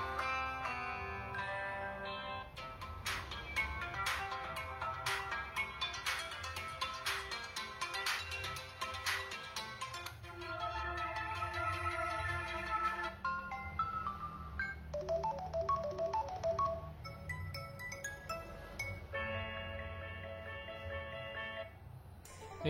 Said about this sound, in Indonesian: Kita coba dengarkan ringtone-nya.